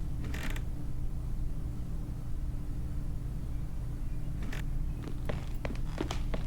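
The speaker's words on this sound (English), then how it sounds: "the footsteps that sound like they're in the room" Footsteps in the horror game Withering Rooms, a few scattered thumps and creaks over a low droning ambience, spaced irregularly and sounding fairly close, with no voice present.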